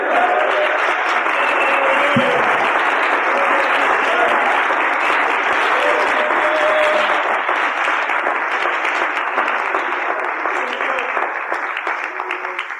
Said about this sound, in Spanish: Hermano, ¿no le damos un aplauso al Señor?